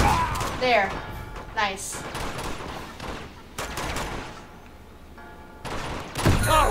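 Shotgun blasts in the video game Uncharted 2, several loud booming shots spaced a second or so apart amid game noise, with someone talking over them.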